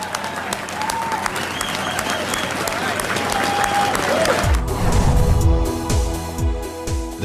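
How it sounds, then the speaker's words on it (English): A crowd at the public opening of Boston's Big Dig tunnel project applauds the builders, sustained clapping that swells with some cheering, while music rises toward the end. "Let's give them the round of applause that they deserve for building this project."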